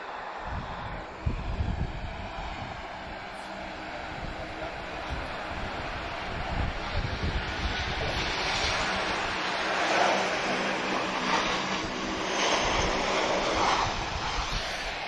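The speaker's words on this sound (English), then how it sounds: "Very spirited arrival from Transavia." A Transavia Boeing 737 arriving from Montpellier lands at Lisbon Airport, its broad jet roar and rushing noise steady and fairly distant, swelling slightly toward the end.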